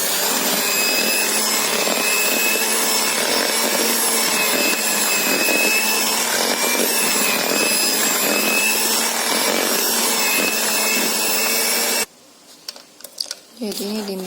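An electric hand mixer beats snow cookie dough in a bowl, a loud steady motor whir with a scraping, grinding texture running for about twelve seconds before it cuts off, followed by quieter clatter.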